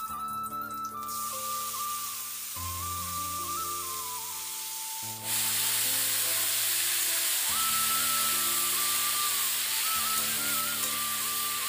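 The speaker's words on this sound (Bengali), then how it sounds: "সেই 3খানা ফুলকপি দিয়ে আর কুচো আলুগুলো দিয়ে আলু আর ফুলকপি একটু ভাজা করে ফেলছি।" Potato and small cauliflower florets frying in a pan, a steady soft hiss and sizzle that grows louder partway through, with a faint droning hum underneath and no talk.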